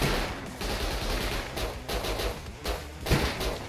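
Rapid gunfire rattles through a video game firefight, dense overlapping shots and thumps in quick bursts, loud and close throughout.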